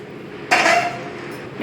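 Roasted ingredients for curry leaf thokku tipped from a pan into a mixer jar, a sudden rattling clatter that rings briefly, then fades into a quiet background with a faint knock at the end.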